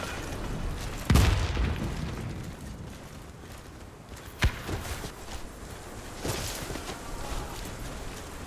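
A grenade explodes in the video game Warface: a sharp blast booms, followed a few seconds later by a smaller explosion and another thump, with scattered rustling and movement noise between.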